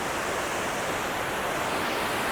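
A waterfall beside the road on the Sach Pass mountain route roars as a loud, constant, dense rush of falling water, heard close up with no voices.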